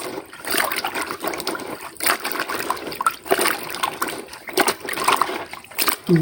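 Papaya pieces are washed in a basin of water, with steady splashing, sloshing and trickling close by and no talk.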